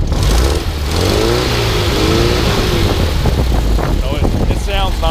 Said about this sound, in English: I'll go ahead and start it back up. You can see it starts right up, fires up right away. You know, it doesn't blow smoke. Go ahead and rev it.